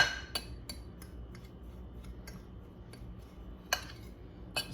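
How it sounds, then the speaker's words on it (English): A fork mixes a Parmesan coating in a dish, giving a few faint, light clinks and scrapes against the dish over a quiet background. "Now I'm going to take my fork and mix it all up."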